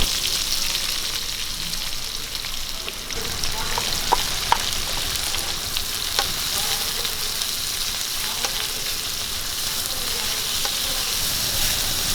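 Two chopped onions hit a pan of hot oil with whole spices, including cinnamon, fennel seeds and dried red chillies, for a chicken curry. A steady, close sizzle runs throughout, with a few light clinks of stirring.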